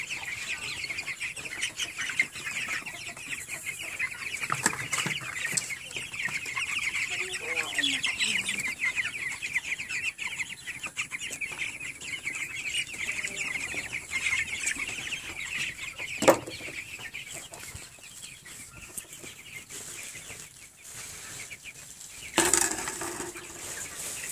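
Chickens cluck and chatter steadily over a busy outdoor background, with a few sharp knocks and a sudden clatter near the end.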